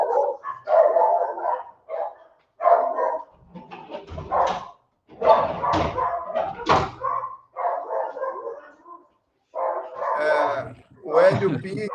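A small pet dog barks in repeated excited bursts, sharp yaps coming in quick clusters with short pauses between them, fairly close and loud, with no talking.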